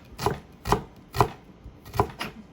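Kangkong stalks being cut with a knife on a board: four crisp chops at an even, unhurried pace, close and distinct, with quiet pauses between them and no talking.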